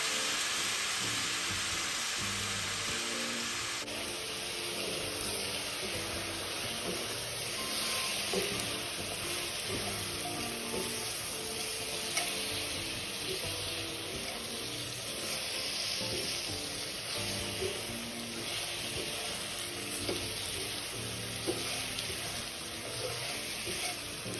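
Chicken stir-fried with onion, rock sugar and soy sauce sizzles in a hot pan, a loud continuous frying hiss with the scrape of stirring, close and without talk.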